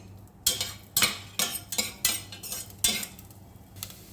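A utensil stirs coconut pieces frying in hot coconut oil in a pan, with about eight distinct clinks and scrapes against the metal over a faint low background. No one speaks.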